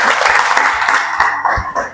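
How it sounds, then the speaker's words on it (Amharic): Congregation in a church breaks into applause, loud dense clapping with a bright, sustained tone over it that could be ululation. "አንድ ጊዜ እልልታ ጭብጨባ"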